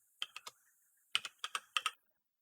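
Someone types a password on a computer keyboard in two short bursts of crisp, close key clicks, three then seven strokes, in an otherwise quiet room.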